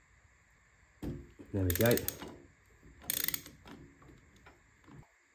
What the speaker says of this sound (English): This spanner here is locked against the peg, and now we can tighten the center bolt up, and that should pull the flywheel off.